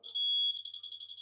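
A 1983 Casio Pachinko electronic handheld game gives a loud, sustained high electronic tone followed by a quick series of rhythmic beeps.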